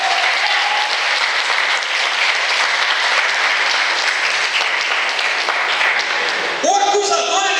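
A church congregation applauding during a sermon, loud continuous clapping from many hands held steady for several seconds before a voice cuts in at the end.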